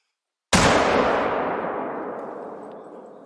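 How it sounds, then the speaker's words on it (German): A single rifle shot in the hunting game theHunter: Call of the Wild cracks sharply after a brief silence, then a long rolling echo decays slowly across the landscape. "das war doch mal ein guter Schuss, oder?"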